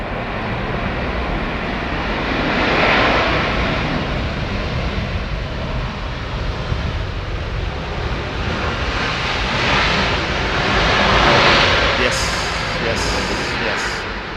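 An American Dreamliner jet at Heathrow Airport gives a loud, broad engine roar that swells and eases as it passes, mixed with voices talking.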